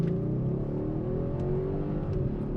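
A Mercedes-Benz AMG engine and exhaust in sport mode after a downshift, giving a continuous deep, loud drone as revs climb steadily, heard from inside the car with no voices.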